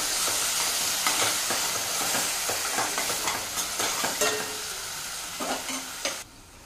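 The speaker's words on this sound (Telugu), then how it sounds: "ఇది ఒక టమాటో అండి, గ్రైండ్ చేసి పెట్టుకున్నాను. అది ఇప్పుడు వేసేస్తాను. ఇప్పుడు మిక్స్ చేద్దాం." Ground tomato paste tipped into a hot pan of curry base and stirred, giving a loud steady sizzle with scraping spoon strokes that quiets toward the end.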